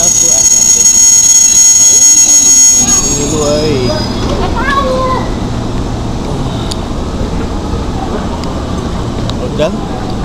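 An Indonesian KRL electric commuter train rumbles past with a steady roar and high squealing tones, fading slightly as it goes; someone speaks briefly over it.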